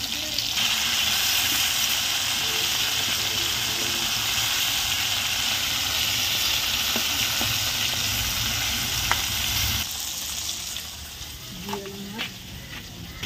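Food sizzles steadily in a frying pan by a village riverside, a continuous loud hiss that thins out near the end, with people talking nearby.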